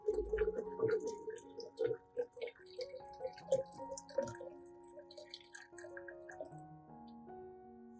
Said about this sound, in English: Pour the water carefully into a glass.